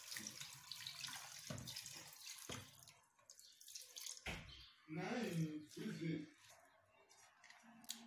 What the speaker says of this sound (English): Then now we add water to it to cook.